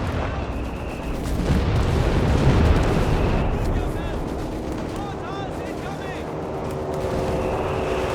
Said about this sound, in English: Mortar fire landing closely.